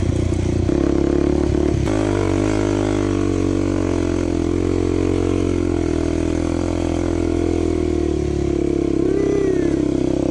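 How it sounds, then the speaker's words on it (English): A Suzuki LT-Z400 ATV with a 400cc engine revs hard while riding on sand dunes, a loud continuous roar with shifting pitch and clattering throughout. "for a 400cc engine, these things rip"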